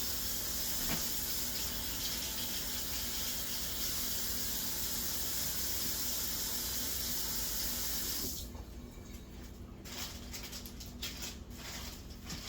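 Vegetables such as jalapenos and tomatoes are washed under a steady stream of running kitchen tap water that gushes loudly for about eight seconds, then breaks into softer splashing and patter as the produce is moved around.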